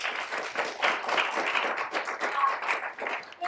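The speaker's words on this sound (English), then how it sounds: "We'll give them a round of applause" An audience at a live evening talk claps in a round of applause, the individual claps distinct and uneven, rising and dipping over a few seconds in a moderately sized room.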